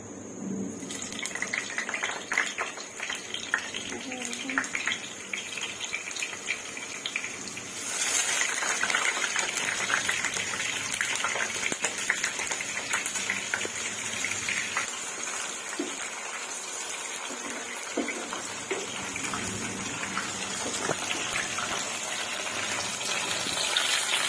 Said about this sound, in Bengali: তেলটা মোটামুটি গরম হয়ে গেছে, আমি এখন ফ্রেঞ্চ ফ্রাইগুলো একে একে দিয়ে দিব।